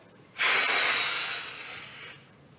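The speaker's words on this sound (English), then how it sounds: "Breathe in, blow out." A single forceful exhalation during a yoga breathing kriya, a sharp loud airy blow that starts abruptly and fades over about two seconds, close to the microphone with no talk over it.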